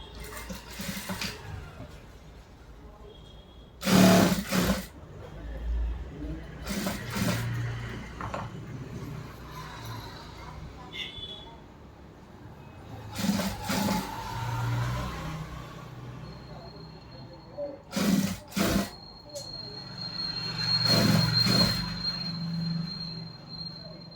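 A sewing machine running a hem seam along the edge of a churidar top, in repeated short bursts of whirring stitching with pauses between, and a voice talking at times.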